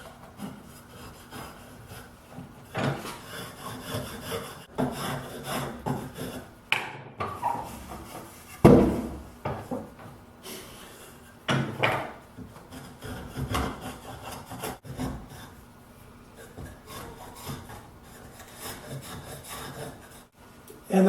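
Repeated scraping and rasping strokes of a spokeshave shaving a wooden handle clamped in a bench vise, coming in uneven bursts with pauses between, fairly close.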